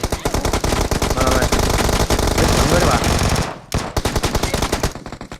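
Rapid automatic gunfire in PUBG Mobile, loud and dense bursts of shots running almost continuously, with a brief pause near the end before more shots follow.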